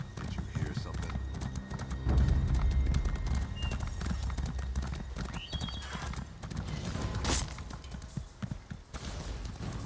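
A horse gallops in the video game ESO Deadlands with rapid, close clip-clop hoofbeats and a brief whinny, while a voice talks over the running throughout.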